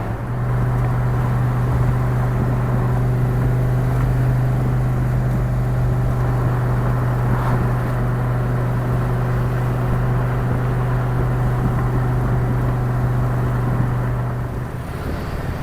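A turbo Ford Mustang cruising on an expressway, heard from inside the car as a steady, loud, low engine drone and road rumble that holds even throughout, with no talking.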